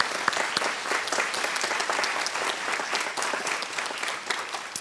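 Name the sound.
audience applause at a school band concert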